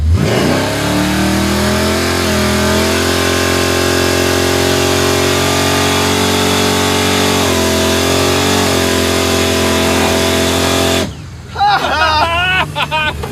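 A big block Chevrolet Impala roars through a burnout, engine held at high revs in a loud, sustained howl with a few dips in pitch, before cutting off into people talking and shouting.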